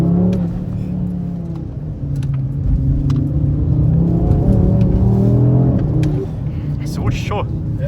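Audi RS3 in drift mode with all assists off, accelerating hard on a wet, rainy road; a deep, steady engine roar rises and swells over several seconds, with voices talking over it inside the car.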